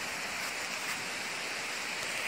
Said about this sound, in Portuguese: Ah lá, a cachoeira.